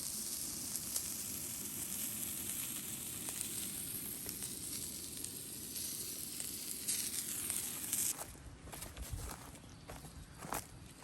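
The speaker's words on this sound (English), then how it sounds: "let's get some heat on this grill. Get these eggs cooked." Eggs cook on a camping grill outdoors with a steady close sizzle, which gives way near the end to a few louder clunks and shuffling handling sounds.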